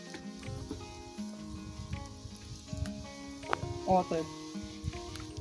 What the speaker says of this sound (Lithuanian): kaip dešrelės gerai dega. Kepa, tai yra.